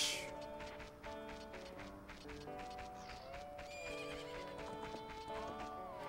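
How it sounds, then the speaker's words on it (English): Horses neigh and whinny repeatedly in the corral at Lon Lon Ranch in Ocarina of Time, with hoof clip-clops under an ongoing game music melody. "Where the horses in the corral are just as lively as ever."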